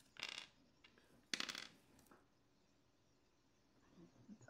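A small four-sided die dropped onto a tabletop during a tabletop role-playing game, two quick clattering bounces close by, then faint rattling settling, quiet overall with no talk.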